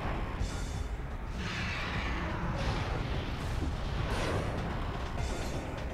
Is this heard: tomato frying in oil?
no